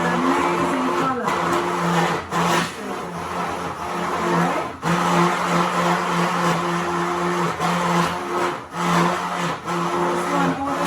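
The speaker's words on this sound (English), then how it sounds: "So my hand blender here" A hand blender whirs loudly and continuously as it mixes a banana berry smoothie. Its pitch dips and rises briefly as the blade works through the fruit, and it is close with no talking over it.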